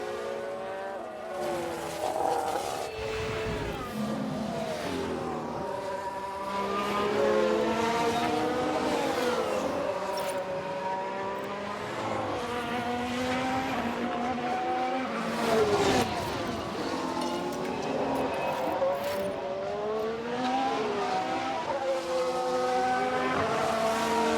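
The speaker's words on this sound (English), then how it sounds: "Sounds like there's been a crash." Race cars in an F1 Manager 2022 game session, engines droning and revving continuously with pitch sweeps as cars pass, moderately loud and steady throughout, with no distinct crash impact standing out.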